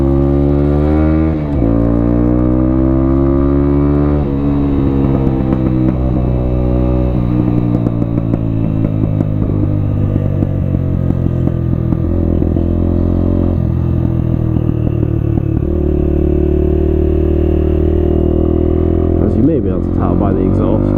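Honda XR125 motorcycle ridden on mountain gravel roads, its engine droning loudly and steadily with pitch rising and falling as it revs and shifts, close and continuous with some wind and clatter.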